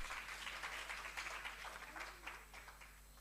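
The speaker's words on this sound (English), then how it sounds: "Please give him a huge round of applause." Faint applause from the audience at a kindergarten graduation ceremony, a soft, steady patter of many hands that tapers slightly toward the end, heard over a low hum.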